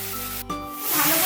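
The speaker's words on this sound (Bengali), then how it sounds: "তেলটা গরম হয়ে গেছে, ফোড়ন দেবো, শুকনো লঙ্কা, এলাচ আর গোটা জিরে।" Dried chilli, cardamom and whole cumin dropped into hot oil: a brief burst on contact, then a steady, close sizzling hiss that grows louder and carries on alone.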